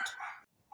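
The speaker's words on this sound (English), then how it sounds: "that is my neighbor's dog barking in the background." A neighbor's dog barks outdoors, two quick sharp barks close together, then a short pause before another bark starts, carrying clearly with no talking over it.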